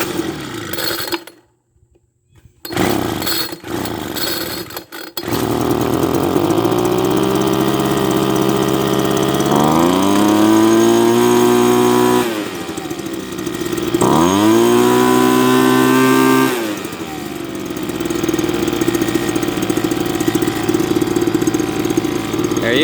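A leaf blower's small two-stroke engine, freshly cleaned and refuelled, catches after a couple of brief pulls and then roars steadily at full throttle and full choke, its pitch rising and dipping as the revs surge before settling into a loud sustained drone.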